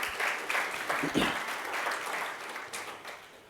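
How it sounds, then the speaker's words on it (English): An audience at a Hack Night tech meetup breaks into steady applause, dense clapping sustained across the room with a voice briefly audible. "give him a round of applause"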